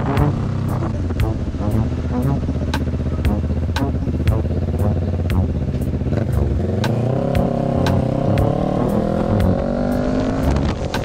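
Kawasaki Ninja 650 ER6F big bike riding on an expressway, a loud steady engine drone with shifting pitch and wind rush throughout, a rider's voice talking over it.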